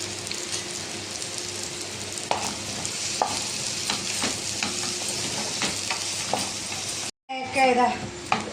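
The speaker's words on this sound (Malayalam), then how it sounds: "വെളുത്തുള്ളി ഇത് നമുക്ക് വറുത്തെടുക്കാം" Garlic and shallots sizzle and crackle in hot oil, with occasional stirring scrapes; a short dropout near the end, then louder sizzling.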